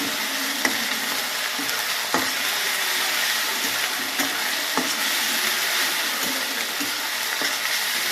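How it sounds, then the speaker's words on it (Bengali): Green chili paste sizzles in a hot frying pan while a spoon stirs it, a steady loud frying hiss broken by occasional scraping knocks against the pan. "কাঁচা ঝাল বাটা দিয়ে একটু নেড়ে দিই"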